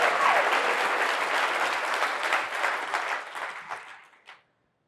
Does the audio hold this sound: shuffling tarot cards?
no